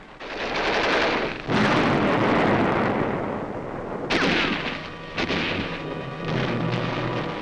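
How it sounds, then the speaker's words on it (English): Jungle combat on a ridge: a yard-long hand grenade goes off amid bursts of gunfire, heavy blasts and rattling shots in loud, ragged clusters with brief lulls, harsh and close with no voices. "A Japanese comes into the open, throws a yard-long grenade before being hit."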